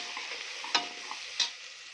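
A spoon stirs garam masala through a frying onion-tomato mixture, a low steady sizzle carrying two sharp scrapes against the pan, close and without talk.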